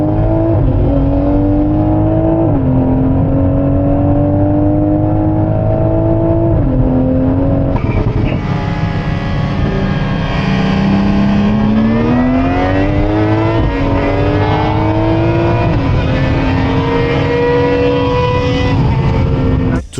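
A tuned Toyota Supra running on an ethanol blend revs hard through the gears while racing, its engine note climbing and dropping with shifts over about twenty seconds, loud, close and continuous.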